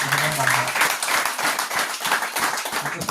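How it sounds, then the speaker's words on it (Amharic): A church congregation claps hands in a fast, dense, continuous rhythm, close and lively, mixed with voices singing or calling out. "አጨብጭቡ ለጌታችን ነው"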